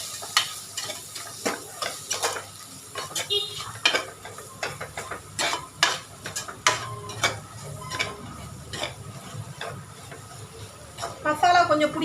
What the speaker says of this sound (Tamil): இப்போ இதை நல்லா மசாலா எல்லாம் கொஞ்சம் நல்லா வதக்கிக்கலாம்,